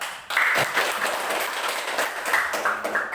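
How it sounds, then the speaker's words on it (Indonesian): Classroom applause starts suddenly and keeps going as a lively burst of clapping from a group of students, close and fairly loud. "Tepuk tangan dulu."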